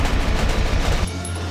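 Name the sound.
gunfire from a video game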